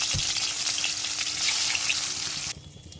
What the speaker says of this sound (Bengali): প্রথম পর্যায়ের মাছ ভাজা চলছে